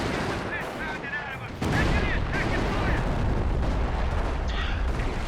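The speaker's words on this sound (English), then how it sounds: "Trapmaker's going to get the heck out of there with that off-map artillery barrage coming down" Off-map artillery barrage from the video game Company of Heroes in an Operation Market Garden 4v4 battle: dense, continuous gunfire and shell blasts that swell louder after the first moment and roll on as a steady roar.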